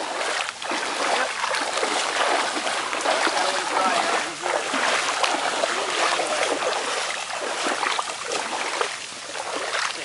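Steady splashing and sloshing from footsteps wading along a flooded swamp trail at Brooker Creek Nature Preserve, continuous and fairly loud throughout, with voices faint underneath.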